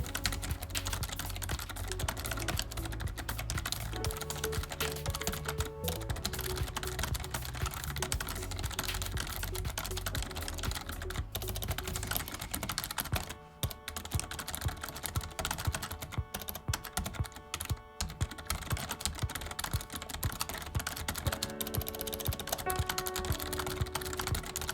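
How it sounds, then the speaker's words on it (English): Fast, continuous typing on a Razer Mecha-Membrane keyboard, a dense clatter of light key presses heard up close, with brief pauses between bursts. "I've already pointed the mic down at the keyboard so you can hear what it sounds like"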